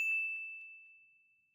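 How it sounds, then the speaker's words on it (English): A single bright notification bell ding rings out cleanly and alone, its high pure tone sustaining and slowly fading away. "take 5 seconds to hit subscribe and turn on the notification bell"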